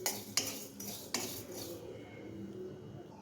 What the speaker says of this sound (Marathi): आता हे जिरेसुद्धा मस्त असे भाजून घेऊया